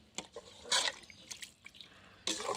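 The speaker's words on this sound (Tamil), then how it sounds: "நான் வந்து ஒரு செம்பு அளவுக்கு தண்ணி எடுத்துருக்கேன் அதை சேர்த்துக்கலாம்" Water from a small vessel poured into a pot of broiler chicken kulambu curry, heard as faint, brief splashing bursts separated by short pauses.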